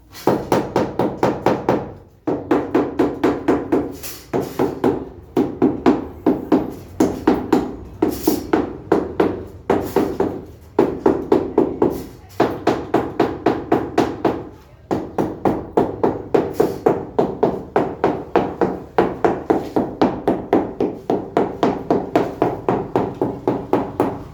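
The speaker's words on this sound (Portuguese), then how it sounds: "Eu pego um martelinho que tem aqui." Rapid, steady tapping of a small hammer on concrete at a pile and beam, sharp repeated strikes in quick bursts with brief pauses, close and fairly loud throughout.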